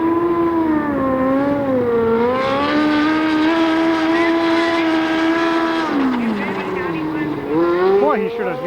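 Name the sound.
race car driving an autocross course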